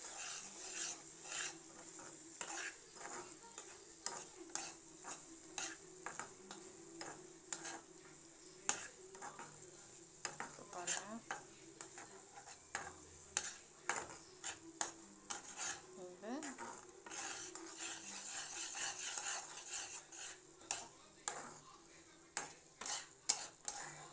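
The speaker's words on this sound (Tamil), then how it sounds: "இப்போது இதை நல்லா கிளறி விட்டுக்கணும்." Two cracked eggs get stirred in a frying pan with repeated scraping and clinking strokes of a utensil over a soft, steady sizzle, fairly quiet and close.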